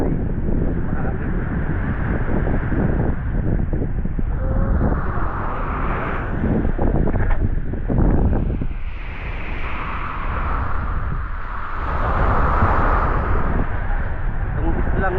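Strong wind blowing across a small island far from the city, a steady roaring buffet on the microphone throughout, with someone speaking over it.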